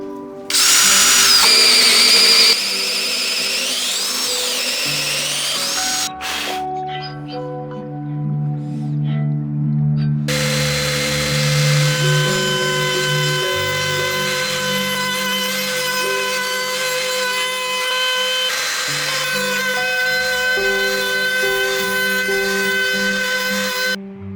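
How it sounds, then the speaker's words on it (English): A drill-driven hole saw bores circular tenons on wooden table legs, and a router table then finishes them. Loud whining tool noise runs through almost the whole stretch, with a brief quieter gap early on and no talk. "I did this by first cutting the tenon with a hole saw, and then finishing up on the router table"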